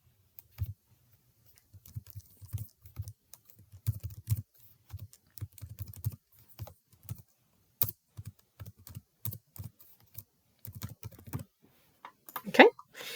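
Computer keyboard typing in bursts of quick clicks with short pauses between, fairly close and clear, ending with a brighter clatter of keys.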